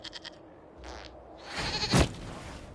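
Goat bleating from the video game Dragon Age: Inquisition, a few short bleats rising to one loud, strained cry near the end, fairly close against a quiet background.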